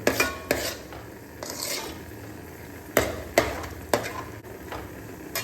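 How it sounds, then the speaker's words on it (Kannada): Moong dal roasting in ghee in a pan, heard as repeated sharp clinks and scrapes of a spoon stirring against the metal over a low, steady frying hiss. "ಇದನ್ನು ಹೀಗೆ ತುಪ್ಪದಲ್ಲಿ ಹುರಿತಾ ಇರಬೇಕು"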